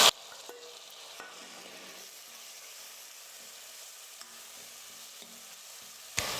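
Soft, steady sizzling of tomatoes frying with onions in a pan for a chickpea masala kuzhambu, with a few stirring clinks and scrapes, ending in a sharper clatter.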